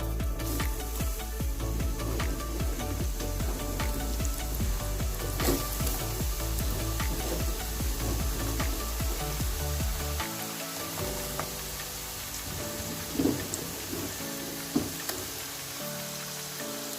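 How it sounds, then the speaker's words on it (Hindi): French fries dropped into hot oil in a pan, a dense continuous sizzle and crackle close up, loud and steady, easing slightly partway through with a few sharper pops. "पैन में ऑयल डाल के हमने गर्म कर लिया है। अब हम इसमें फ्राइज डालेंगे।"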